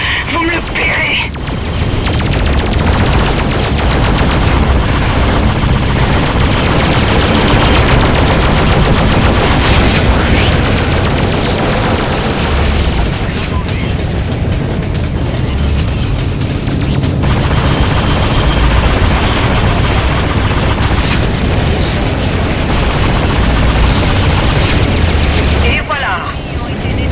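Spaceships trade gunfire in the space combat game Freelancer: loud, dense bursts of rapid weapon fire and blasts roll on almost without a break, with game voices speaking over the battle.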